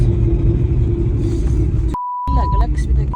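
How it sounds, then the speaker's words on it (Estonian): A loose muffler drags beneath a moving car, giving a steady, loud rumbling scrape over heavy road noise. A voice speaks over it, cut off by a short electronic beep tone before the scraping resumes. "Appi midagi lohiseb mu autos."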